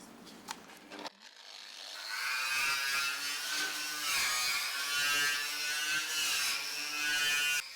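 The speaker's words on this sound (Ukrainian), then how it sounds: "То булгарка, і треба е, той весь метал очистити від ржі." An angle grinder strips rust from a metal workpiece in a small workshop, a loud, close, high whine that spins up after a few clicks and holds steady with rhythmic dips as it bites the metal.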